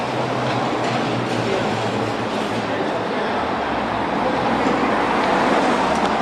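Steady street noise under a city viaduct, with a dense roar of a passing train and traffic rumbling continuously at a fairly loud level and no clear voices.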